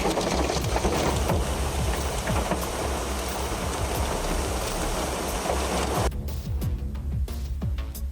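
Storm rain in Spain pours in a steady, dense roar of drops that stays loud and continuous throughout, with no pauses.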